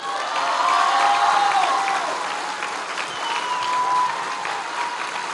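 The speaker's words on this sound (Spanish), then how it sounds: "tiene toda la razón de aplaudirle" Crowd applause at a public health event in Quintana Roo, a broad continuous roar of clapping with faint cheering and whistle-like tones mixed in, swelling then easing slightly.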